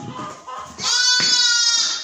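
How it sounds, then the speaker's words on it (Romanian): A lamb on a winter farmyard gives a few close, loud bleats, with the longest, wavering cry in the second half. "Aici este mielul."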